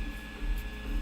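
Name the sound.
Prusa MK2S 3D printer printing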